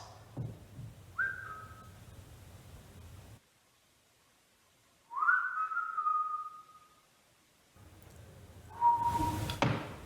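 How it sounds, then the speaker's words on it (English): Faint, thin whistling tones in a dark, quiet haunted hospital dungeon at Fairfield Infirmary, three short wavering whistles separated by near-total silence, with low thuds and a rumbling room hum around them. "There it was again. It was like a little whistle."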